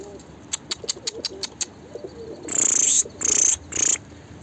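Several soft pigeon coos, low and rounded, from racing pigeons, follow a string of quick clicking taps, with three longer hissy bursts of rustling near the end.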